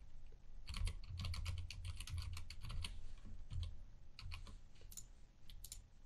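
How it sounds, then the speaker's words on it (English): Quick bursts of keystrokes on a computer keyboard as a host name is typed, close and clear, with short pauses between runs of clicks. "host is where you're just going to type your host name"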